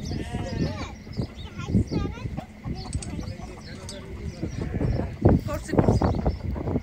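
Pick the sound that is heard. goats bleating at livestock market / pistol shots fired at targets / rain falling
goats bleating at livestock market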